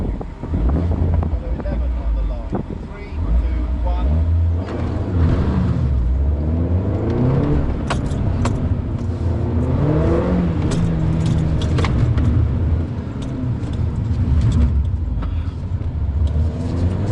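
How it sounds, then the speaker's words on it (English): A car on an autosolo course revs hard with rising and falling engine notes and bursts of wheelspin, close and loud under constant wind buffeting, with some talking mixed in. "Let's just try and keep the wheel spin down to a little bit less"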